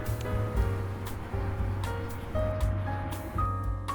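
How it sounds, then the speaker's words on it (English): Freshly picked calendula flowers are swished and rinsed in a bowl of chilled water, producing soft, continuous sloshing and splashing with gentle repeated swells, close and unaccompanied by talk. "So I prepared a bowl of chilled water for our flowers. We're just gonna clean them off."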